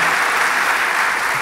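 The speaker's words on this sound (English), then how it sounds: "Give them all a round of applause for being here with you this morning" Sustained applause from a morning audience at a rural municipalities association gathering, greeting provincial cabinet ministers; a dense, steady wash of clapping hands held at even loudness throughout.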